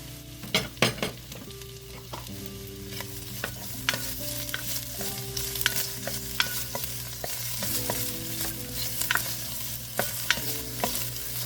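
Onions fry in olive oil in a soup pot, a steady close sizzle broken by repeated scraping and knocking of a spoon stirring, with low background music tones and no talk.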